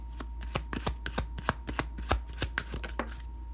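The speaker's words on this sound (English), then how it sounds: "That's why I keep shuffling." Tarot cards being shuffled, a quick series of crisp riffling slaps and flicks, close and alone at a brisk irregular rhythm.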